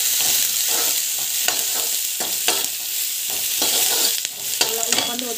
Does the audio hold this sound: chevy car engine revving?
no